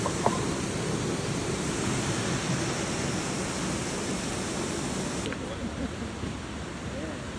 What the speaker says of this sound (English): a couple more tiny little waterfalls